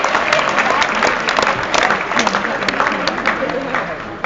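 Audience applause at a Platte County High School senior ceremony in 2014: dense, continuous clapping from a large crowd, loud and steady throughout with slight swells, and crowd noise mixed in.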